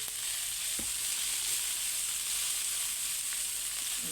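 Garlic, ginger and onion sauté in hot oil for a Filipino ginataang alimasag crab dish, a steady close sizzle with a couple of faint stirring knocks and no talking.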